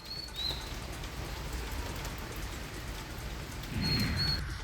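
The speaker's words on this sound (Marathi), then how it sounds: "आज सकाळपासून रिमझिम पावसाला सुरुवात झाली आहे." Steady light drizzle patters in a soft, even hiss in Pune, with faint high bird chirps at the start and near the end.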